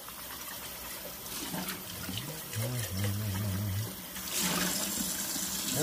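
Tap water running and splashing while a coffee pot is rinsed out in a sink, a steady wash of water that swells louder near the end, with a person's voice heard briefly over it.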